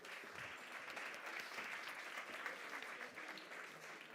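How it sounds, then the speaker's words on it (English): Steady applause from a large crowd at a startup conference in Valencia, dense and continuous clapping at even volume throughout. "Please give a very warm round of applause"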